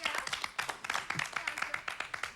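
Studio audience on a 1970s television game show clapping, a steady patter of many hands throughout.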